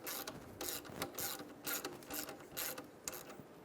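A ratchet snugs down a nut on the AC compressor of a 2007-2012 Nissan Altima, giving a quiet, close series of rapid clicking bursts in a regular rhythm.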